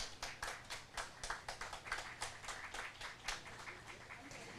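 Audience applause at a Songpa citizens' ceremony marking the 102nd anniversary of the March 1st Movement, a steady round of clapping from a crowd of many hands, moderately distant and fairly quiet, with individual claps standing out in an uneven rhythm.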